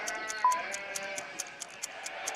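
Sheep in a children's animal counting game give one short bleat near the start. Regular light ticking, like a clock or timer, repeats throughout at a soft, quiet level.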